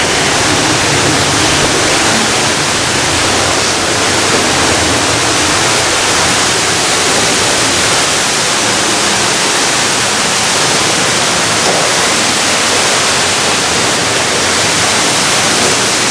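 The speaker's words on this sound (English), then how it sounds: "You hear the 100-foot waterfall." A 100-foot underground waterfall roaring inside a cave, a dense, constant wash of rushing water, loud and unbroken throughout.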